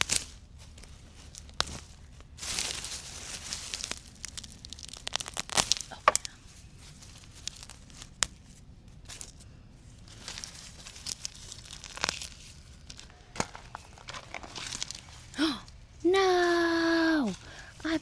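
Bachelor's button plants are pulled from garden soil in a zone 3 garden, with close rustling, crinkling and tearing of stems and leaves in scattered bursts, and a voice reacting near the end.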